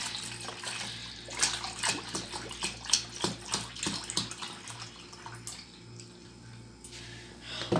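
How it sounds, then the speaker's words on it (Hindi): Milk is poured into a pan for making custard, a close, steady liquid splashing and gurgling that rises and falls in small surges, with no talking. "हम अब इसके अंदर हम दूध डालेंगे"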